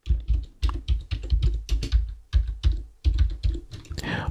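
Computer keyboard keys clack in quick, uneven bursts of close, crisp strokes as a folder name is typed, with short pauses between words and no voices.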